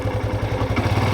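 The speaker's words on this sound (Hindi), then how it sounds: "देखो इसके थ्रॉटल की आवाज़ को फील करना, देखो ये नॉर्मल है ना" Motorcycle engine idling steadily with a light touch of throttle, a low rhythmic thumping pulse running through the whole moment, close and fairly loud with no talk.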